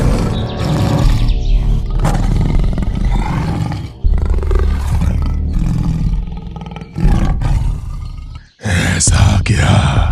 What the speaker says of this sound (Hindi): ठीक तभी गरजते हुए गुफा के अंदर से निकल आई एक बाघ।